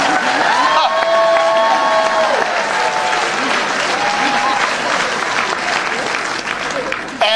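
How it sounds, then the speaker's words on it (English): An audience at a meeting applauds, a dense steady clapping that fills the room for several seconds before tapering slightly, with a few voices over it. "You go clap."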